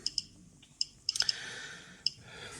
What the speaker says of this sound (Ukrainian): Щоб швидко швидко вімкнути клацання, щелчки, просто перезапускаємо прилад і автоматично їх вмикаємо.